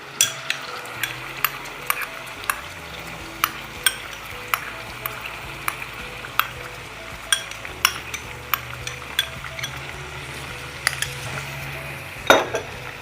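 Sauce for tashreeb stirred in a frying pot, a spoon scraping and clinking against the metal in regular strokes over a soft sizzle, close and clear with no talk.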